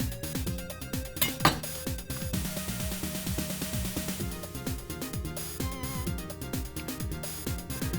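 Clinking metal utensils and pot sounds as a piece of goulash meat is lifted out and cut into, with irregular scrapes and taps against cookware, moderately close, no talking.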